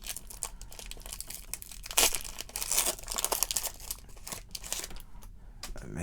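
Yu-Gi-Oh booster card packs being torn open by hand up close: crisp foil ripping and crinkling in several short bursts, quiet and free of talk.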